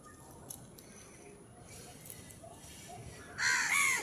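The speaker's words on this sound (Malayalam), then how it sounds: "കാക്ക ചോറ് തിന്നാൻ വന്ന് നിൽക്കുക" Crows gathering to eat rice caw; the scene stays quiet and faint at first, then a couple of loud, close, harsh caws burst out near the end.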